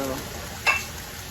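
Vegetables frying in a pan with bitter tomato and habanero pepper added give a soft, steady sizzle, broken by a single brief clink of a utensil against the pot partway through.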